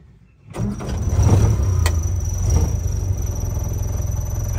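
A 1955 Land Rover Series 1 86-inch engine cranks briefly on the starter button, catches and settles into a steady, close idle with a low rumble.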